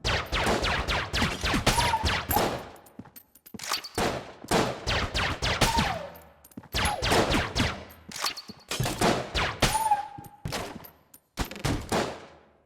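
Rapid bursts of video-game gunfire from an infinite-ammo gun, loud and close, coming in several long rattling strings separated by short pauses.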